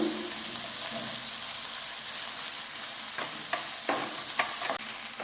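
Boiled peas fry in a pan for a masala dosa filling, giving a constant loud sizzle with several scraping stirs near the end.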